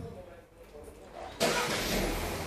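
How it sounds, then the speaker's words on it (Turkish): A Peugeot 3008 car engine cranks and catches about midway, jumping into a loud, broad roar that settles into a steady idle, with some voices faintly present beforehand. "Çalıştırın arabayı."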